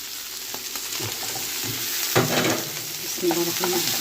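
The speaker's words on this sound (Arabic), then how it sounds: "اهي حضراتكم تاني الفلفل اهو نحطه على طول دلوقتي" Peppers tossed into a frying pan with minced meat and onions, a steady sizzle with stirring scrapes and clinks, the frying swelling louder midway; a voice speaks a brief phrase.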